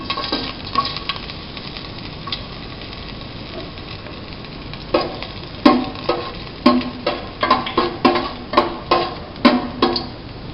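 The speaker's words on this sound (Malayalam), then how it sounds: "ബാക്കി ഇൻഗ്രീഡിയൻസും നമുക്ക് വഴറ്റി ചേർക്കാം." Ginger and other ingredients sautéing in coconut oil for squid masala, a steady sizzle from the pan broken by a quick run of rhythmic metallic stirring and scraping knocks near the end.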